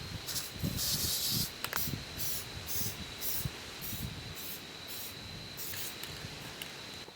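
Matte flat black aerosol paint being sprayed onto truck parts, heard as a near, steady hiss in short and long bursts with some faint handling noises, and no talk.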